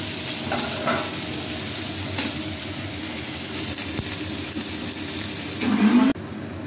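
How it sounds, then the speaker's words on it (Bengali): Onions sizzle in a pan while being stirred, a steady close frying hiss with soft scraping strokes and a louder stirring burst just before the sound cuts off. "পেঁয়াজটা ভাজা হোক, তারপরে সব মশলা দেবো।"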